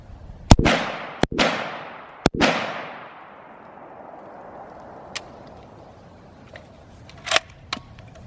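A 7.62x39 rifle cycles through the rest of its magazine with light primer strikes: a few sharp, loud mechanical clacks with ringing decay early on, then sparse fainter clicks and handling noises.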